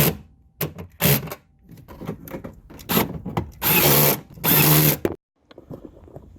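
A power tool runs nut bolts back onto a 2000-2007 Ford Taurus taillight assembly, with short clicks and rattles followed by two loud, close bursts of about half a second each and a quiet tail.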